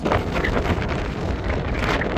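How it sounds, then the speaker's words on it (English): Steady heavy wind buffeting a microphone, a constant low rumbling roar with gusty fluctuations and no voices. "Sorry, it might be a little windy right now."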